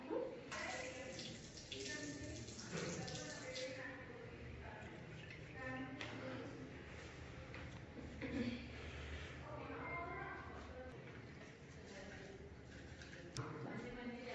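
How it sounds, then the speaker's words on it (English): Running tap water while hands are washed, a steady hiss of water under voices talking in a hospital care setting. "So I am going to wash hand and coming back."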